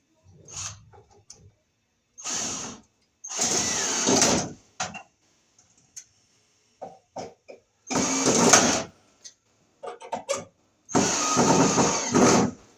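A screw is driven into an electrical sub panel box mounted on a solid surface, heard as several loud, close bursts of a whirring driver separated by short silences and small clicks.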